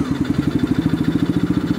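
A mini jeep's small engine idles close by with a quick, even putter, its rapid pulses steady and loud throughout.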